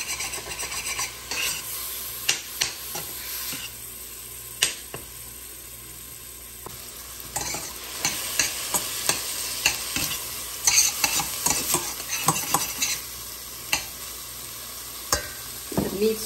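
Ground meat and mushrooms sizzle in a pan for slumgullion, with steady frying hiss and repeated scraping, clattering stirs of a utensil against the pan throughout, close and fairly loud.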